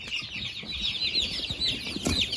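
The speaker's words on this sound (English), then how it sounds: "Baby chicken." Baby chicks cheep in quick, high, repeated chirps close by, with faint rustling and scratching underneath.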